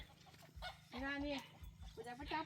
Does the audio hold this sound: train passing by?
no